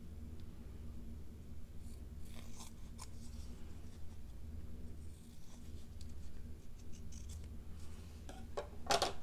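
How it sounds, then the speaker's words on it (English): Small scissors snip fabric close around a card in slow hand stitching, a series of quiet, irregular crisp cuts and rustles over a soft low room hum, louder snips near the end. "just cutting that fabric away."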